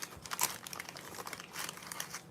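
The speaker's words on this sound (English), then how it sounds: "But let me cut a little piece here." A knife cuts into a hot, freshly baked two-ingredient loaf, giving faint, quiet crackly scraping strokes of the crust in two bursts, with no talking.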